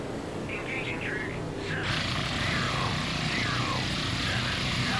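A helicopter in the naval combat game Sea Power makes a steady mechanical drone of rotor and engine. The drone swells and grows louder partway through, after a few short electronic tones near the start.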